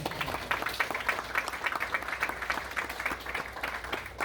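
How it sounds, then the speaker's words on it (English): A crowd applauds steadily, dense clapping sustained throughout at a fairly even level with no talking. "So everyone give him a huge round of applause."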